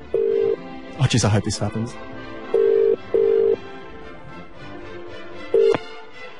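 Telephone call on a radio broadcast: steady tones sound in repeated beeps, with a burst of dialing in the middle, while a voice talks briefly over it.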